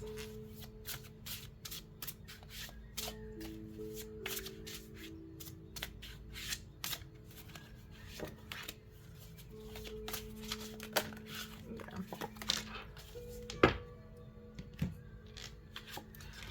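Tarot cards shuffled and pulled from a deck during an earth-signs reading, steady papery riffling and sliding close up with sharp flicks and taps as cards are drawn, no talking.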